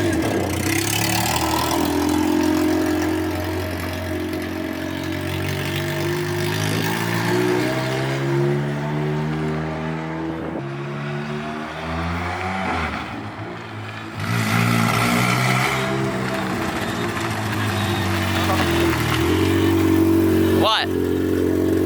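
A K24-swapped Honda Civic EK on the move, its engine note climbing and falling through repeated revs and shifts, loud and close throughout with a brief dip midway.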